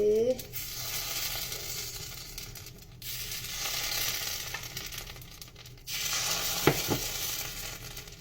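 Small appam batter sizzles steadily in a hot pan, a close, continuous crackling hiss with brief quieter gaps and a faint clink near the end.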